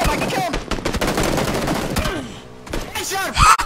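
Rapid bursts of gunfire from a PUBG match, where SKS rifle kills are mentioned, crack in dense, overlapping volleys at close range, with excited voices shouting over the shots.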